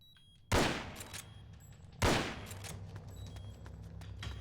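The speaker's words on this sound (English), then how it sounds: "Loud gunshots allowed." Two sharp, loud gunshot bursts from Metal Gear Solid: Portable Ops, the second about a second and a half after the first, each with a decaying tail over low game ambience.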